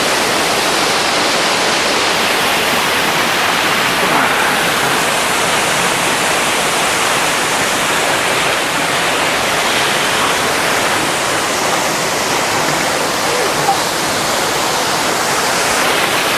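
Water rushes over smoothed rocks at Crummock Water in the Lake District, a loud, unbroken roaring wash that stays steady throughout, close by with no voices.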